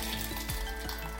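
Beans hit a pan of sautéed spices over low to medium heat for Filipino pork and beans, a brief, soft steady sizzle with faint stirring scrapes and no talking.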